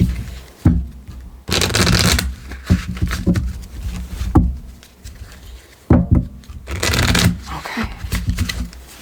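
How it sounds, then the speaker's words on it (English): A deck of playing cards is shuffled in repeated bursts of close, crisp riffling and rustling, separated by short pauses and soft handling noises. "Give it a shuffle. Give it a cut."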